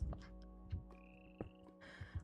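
Frogs in the Minecraft video game croak in short, separate bursts at irregular intervals, quiet and close, with no talking.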